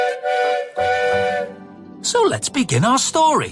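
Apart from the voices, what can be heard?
cartoon tank engine train whistle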